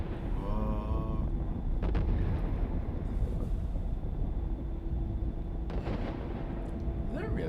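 Heavy gunfire and explosions in Borderlands 2 as a flying city comes under attack: dense, continuous booming and crackling bursts at high volume with little let-up.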